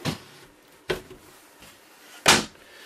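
Drawers on full-extension ball bearing guides in a 2018 Forest River No Boundaries NB16.7 travel trailer slide open and shut, giving a few separate close knocks and bumps spaced over a few seconds, with no talking.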